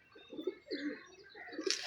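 Pigeons cooing close by, a few soft, low, rolling coos in a short rhythmic sequence with faint chirps in the background.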